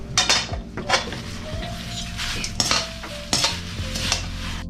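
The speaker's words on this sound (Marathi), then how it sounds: "आता मी याला छानपैकी मिक्स करतो." Roasted poha being tossed with masala in a pan for homemade chivda, with repeated scraping strokes and metallic clinks of the spoon against the pan in an uneven rhythm, close and fairly loud.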